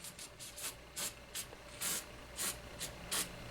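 Short hissing spray bursts of Hornady One Shot case lubricant, about ten of them, close by and in an uneven rhythm, with quiet pauses between and no talking.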